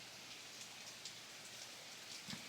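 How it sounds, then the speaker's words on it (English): Steady heavy rain pours outdoors, a dense continuous hiss of drops on surfaces with a few louder splashes, fairly faint and with no voices. "Now that I'm home, it's like fully pouring again."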